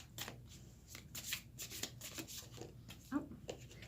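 Tarot cards being shuffled at close range: a quick run of soft riffling flutters and taps, fairly quiet, with brief pauses between bursts.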